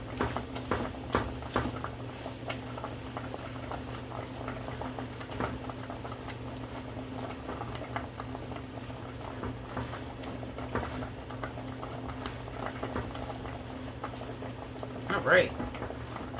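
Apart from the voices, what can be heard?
vegetables for shepherd's pie simmering while stirred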